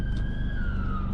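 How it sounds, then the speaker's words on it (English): A police car siren passes at a roundabout, a steady high wailing tone that sits clearly over low road and engine rumble from inside a car. "It's a police car."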